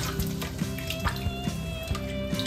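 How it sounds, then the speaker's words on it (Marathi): Raw chicken pieces being rinsed in clean water in a bowl, soft splashes and drips recurring in a loose rhythm, close and fairly quiet. "असं 2-3 वेळा स्वच्छ पाण्याने एकदा त्याला धुवून घ्यायचं"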